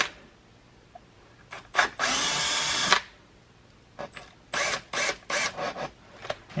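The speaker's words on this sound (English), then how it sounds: "And then I'll come back with my 1/8 inch drill bit" A power drill with a 1/8 inch bit enlarges holes for a Marinco marine power inlet on an RV, giving one longer whirring burst followed by several short, close bursts with quiet gaps between.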